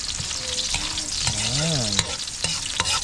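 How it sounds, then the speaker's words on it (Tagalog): Onion and garlic fry and sizzle steadily in a pan during outdoor cooking in Palawan, with stirring scrapes and brief clinks, close and continuous, while someone briefly speaks. "Prito. Sibuyas at bawang."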